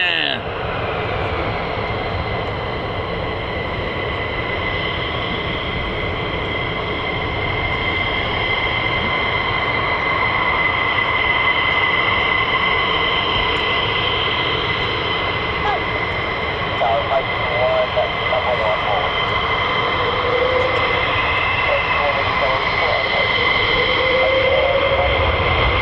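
Sustained roar of a US Air Force F-15 or F-35 fighter jet sweeping past at RAF Lakenheath, loud and steady for the whole span with a whining tone on top and voices talking over it.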